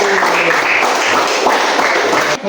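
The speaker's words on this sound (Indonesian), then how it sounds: "Tepuk tangan untuk kelompok 1." Classroom clapping rises for the first student group after a lesson, a short burst of fairly loud, dense applause from students that cuts off abruptly at the end.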